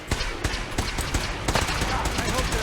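Gunfire in the video game Fallout 4, a burst of repeated loud shots with a dense game mix underneath.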